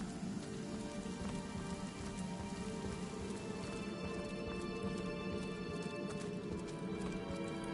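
Rain falls steadily in the video game Divinity: Original Sin Enhanced Edition, a dense, continuous hiss of droplets layered over constant in-game ambience.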